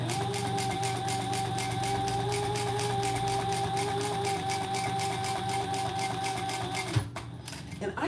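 A sewing machine stitches fabric for a quilt project with a steady, fast, even whirring hum and a buzzy mechanical drone throughout, close and continuous, stopping abruptly near the end with a small clunk.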